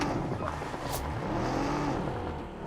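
A vehicle driving in a video game, a low engine drone with shifting revs running steadily under faint background noise.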